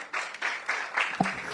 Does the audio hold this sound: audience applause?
yes